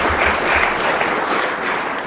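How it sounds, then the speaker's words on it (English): Polite audience applause at a televised Q&A with two former Canadian prime ministers, a steady wash of clapping from a crowd lasting about two seconds, fairly loud and with no talking over it. "Polite clap."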